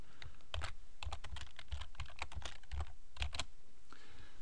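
Rapid keystrokes on a computer keyboard while a page title is typed into a web page editor, irregular clusters of close, crisp clicks with brief pauses between words.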